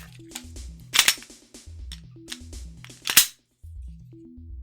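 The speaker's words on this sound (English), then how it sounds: "I'll ensure the pistol is clear" Glock 17 third-generation pistol being cleared, with sharp metallic clacks and snaps of the slide racking, two louder clusters among lighter handling clicks, close and dry with no talk.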